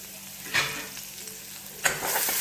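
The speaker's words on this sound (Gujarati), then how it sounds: "ડુંગળીને હલાવી નાખશું." Onion and tomato frying in a pan with bay leaf and curry leaves for a homemade potato sev curry, with a steady sizzle and two sharper scraping stirs, the second louder, close by and without talk.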